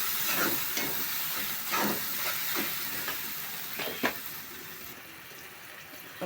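Chopped tomato frying with ginger and garlic in a pan for an omelette curry: a continuous close sizzle broken by repeated stirring scrapes and clacks of a spatula, fairly even in loudness, without talk.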